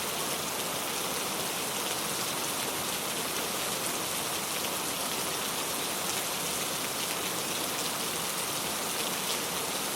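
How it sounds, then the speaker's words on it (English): Gentle rain falls steadily and evenly, a soft continuous wash of drops on surfaces with no breaks, voices or other sounds for the full length. "The gentle rhythm of the rain has become wonderfully familiar now."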